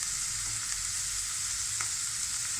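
Vegetable noodles with red chili and black pepper stir-fry in a pan, giving a steady, close, unbroken hiss of sizzling with no voices.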